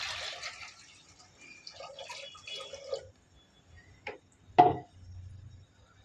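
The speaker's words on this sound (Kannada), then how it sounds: "ಸ್ವಲ್ಪ ನೀರು ಹಾಕ್ಕೊತಾ ಇದ್ದಾರೆ." Water splashes briefly into a pressure cooker heating on a kitchen stove: a couple of short, close pours near the end, after a stretch of quieter kitchen activity.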